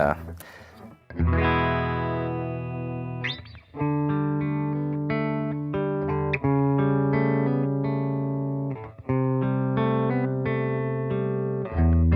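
A clean electric guitar through a Boss Nextone amplifier plays sustained chords with a bright, glassy tone and gentle spring reverb, strummed in a few separate phrases with brief pauses between them.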